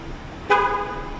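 A single short car horn toot rings out from a parked vehicle in a quiet parking lot in Canada, fairly close and clear, then fades into low background hush.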